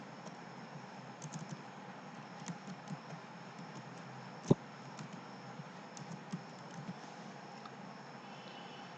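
Quiet computer keyboard typing while entering a name in building design software, soft irregular key taps over a low hum, with one sharper louder click midway through.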